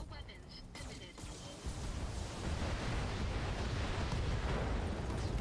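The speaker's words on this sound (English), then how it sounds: "Oh, and there's an LRM ammo explosion." An LRM ammunition explosion destroys a mech in a video game, a sustained roaring blast that swells and stays loud for several seconds.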